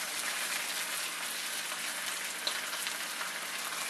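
Steady, dense sizzle of French toast frying in a hot pan, a continuous crackling hiss with no talk over it.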